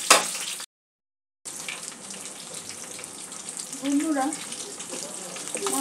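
Pabda fish fry two at a time in a pan, browning lightly on each side, giving a steady broadband sizzle that carries on after a brief pause; a voice speaks briefly at the start.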